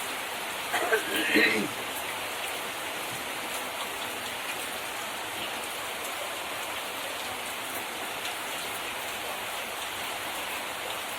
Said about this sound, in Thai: โอ้ไม่น่าเชื่อฝนตกฝน